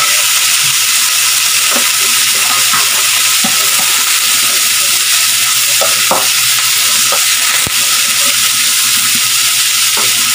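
Onion and garlic frying until golden brown, a loud, steady, continuous sizzle close up with scattered small pops and clicks of stirring throughout, and no talking.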